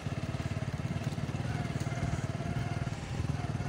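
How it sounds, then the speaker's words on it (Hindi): A motorcycle ridden through a village makes a steady, rapid engine putter with a close, even pulse throughout. Some wind noise runs underneath. "आज बाइक पे निकला हूँ ज़रा गांव घूमने फिरने के लिए"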